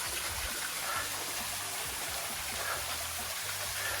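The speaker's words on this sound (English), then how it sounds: "Got back down to the stream into this little waterfall." A small stream spills over a little waterfall, roughly seven feet high, in remote wooded hills; steady broadband rushing of water, close and continuous, with no voices.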